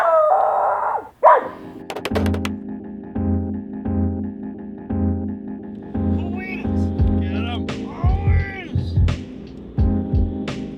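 A dog howls in long, wavering, rising and falling notes over steady background noise outdoors on a windy day in Italy, with a brief bump at the start and several drawn-out howls toward the end.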